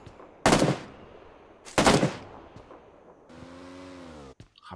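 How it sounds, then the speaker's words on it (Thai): Two loud, sharp gunshot bursts in the video game PUBG Lite, followed by a droning motor tone and a brief cutout, with no talk. "เพื่อนเรายิงคนครับ"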